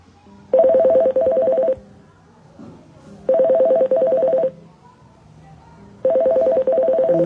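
Telephone tones sound as a call is cut off: three clear bursts of rapid, evenly pulsed beeps, each about a second long, separated by quieter gaps carrying faint background noise.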